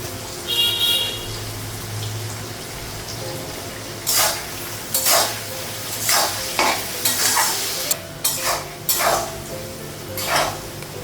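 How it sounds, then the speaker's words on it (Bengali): Onions fry in a pan with green chillies and cinnamon, giving a constant sizzle broken by a series of sharp scraping, clattering stirs spaced a second or so apart. "পেঁয়াজটা একটু লাল করে ভেজে নেব"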